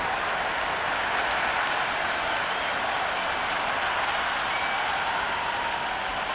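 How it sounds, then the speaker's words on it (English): Stadium crowd noise from the cricket video game Cricket 26 during a women's league final, a dense, constant roar of cheering and applause, even in level with no gaps and no commentary over it. "Will you listen to that crowd?"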